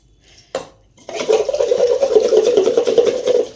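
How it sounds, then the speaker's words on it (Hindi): Puja items are washed in a vessel of water: a single sharp knock of metal is followed by a steady stretch of clinking, scraping and swishing as the items are rubbed and rinsed close by. "इसको इस पानी से इसमें डाल के पहले धो लेते हैं"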